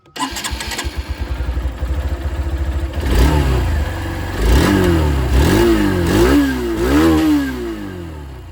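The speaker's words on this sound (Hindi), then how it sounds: "दोनों ही बाइक के यहाँ पर मैं आप लोगों को एग्जॉस्ट साउंड सुना दूँ" A 2026 Hero Xtreme 160R 2V motorcycle engine cranks and starts, then idles before being revved several times, each rev rising and falling, loud and close.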